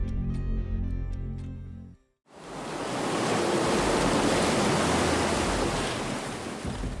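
Tsunami floodwater surging through the city streets of Kesennuma, Japan, a loud, continuous broadband roar of rushing water that starts abruptly after a brief quiet gap and holds steady, with no talking.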